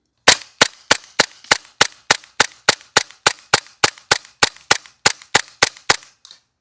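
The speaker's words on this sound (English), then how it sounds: "I'll go ahead and take 20 BBs and we'll see what kind of FPS drop we have through a whole mag." A Novritsch SSQ4 airsoft gun fires a full 20-BB magazine, producing a steady string of about twenty loud, sharp, evenly spaced cracks roughly a third of a second apart, alone with no talk.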